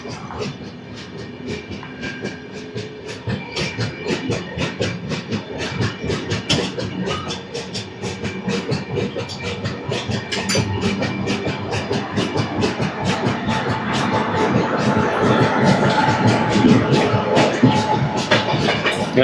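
The Godavari Express (12728) from Hyderabad to Visakhapatnam rolls along with a continuous rhythmic clickety-clack of wheels over rail joints, loud and close, slowly building in intensity.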